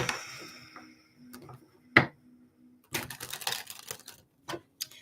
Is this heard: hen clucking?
no